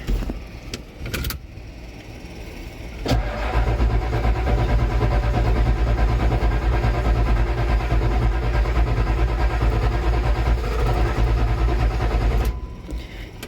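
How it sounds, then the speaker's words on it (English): A 1990 Ford F Super Duty with a 7.3 IDI diesel engine and replaced injectors, starter cranking it steadily for about ten seconds in a loud, even churning drone, with a few clicks at the start. "we're going to crank for about 10 seconds, then we'll let it sit for about 30 to cool the starter off"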